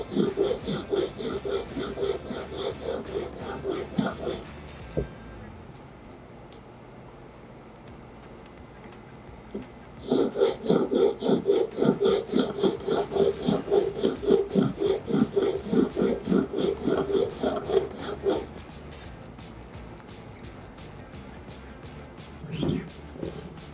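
Chisel held in a honing jig rubbed back and forth on an extra fine sharpening stone, loud rhythmic rasping strokes in two long bursts separated by a quiet pause, with a brief scrape near the end.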